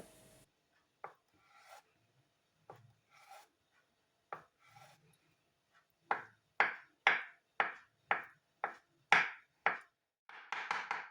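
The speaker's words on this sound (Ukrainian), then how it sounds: "Також нарізаю яйце на кубики, а потім ще подрібнюю ножем, щоб шматочки були меншого розміру." A knife chops a boiled egg into small cubes on a cutting board. A few scattered, soft taps at first give way to a quick, even run of sharp, close chops near the end.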